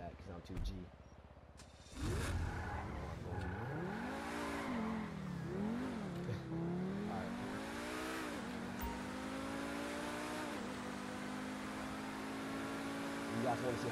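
A car in GTA V revs hard and accelerates through repeated rising and falling engine sweeps, with tire squeal, loud and close, while someone talks over it.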